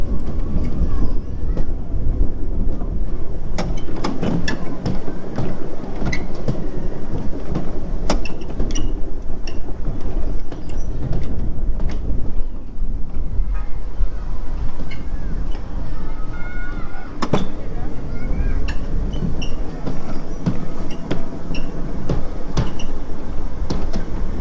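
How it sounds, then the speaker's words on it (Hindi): Kiddie ride train running at an indoor kids' play park in Bahrain, with steady rumbling and rattling wheels punctuated by clanks and clicks, loud and continuous under general crowd noise. "अपनी रेलगड्डी आई।"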